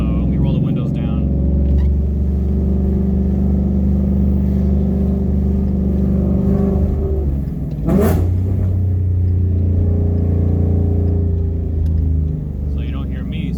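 A sports car with a Corsa Sport catback exhaust and quad tips rumbles at a steady idle, then a sharp rev blasts out around the middle before settling back to a deep, loud drone.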